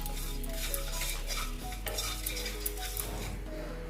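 Panch phoron five-spice frying in oil in a hot wok, a quiet steady sizzle with scraping and light metallic stirring clinks under a constant low hum.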